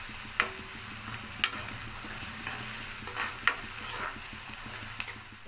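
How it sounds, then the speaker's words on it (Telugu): Onions frying for a pepper egg fry, a quiet steady sizzle with a few sharp spoon taps and scrapes against the pan at irregular intervals, close but faint. "కొంచెం ఎగితే చాలండి ఎర్రగడ్డలు."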